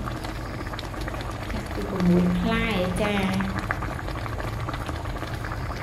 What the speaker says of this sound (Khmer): ធ្វើការរងាស់ឲ្យបន្លែយើងឆ្អិន